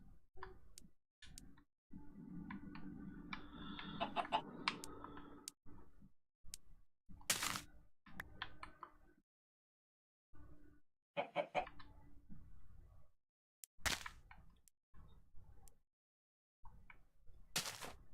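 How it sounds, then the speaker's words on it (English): Minecraft chickens give off short, sharp pops as they lay eggs, scattered irregularly over a steady bed of soft clucking and game ambience, with gaps of near silence between bursts. "There's the popping just from these chickens laying eggs."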